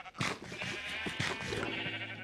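Sheep in the Minecraft video game bleat repeatedly, several close, loud wavering calls that overlap one another with barely a pause.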